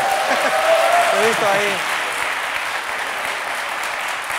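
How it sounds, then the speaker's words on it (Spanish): Studio audience applause on a Spanish political talk show: broad, sustained clapping from a crowd running throughout, with someone speaking briefly over it near the start before the clapping carries on alone. "Aplaudid, no pasa nada."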